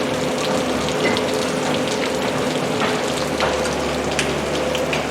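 Steady rain falls outdoors on a farm, with a constant close hiss of drops and scattered sharper patters on nearby surfaces.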